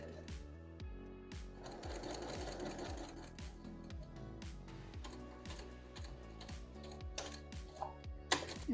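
A sewing machine stitches a sweatshirt sleeve toward the cuff, its needle chattering in a fast, even mechanical rhythm that runs continuously at close range and moderate volume, with a few small clicks near the end.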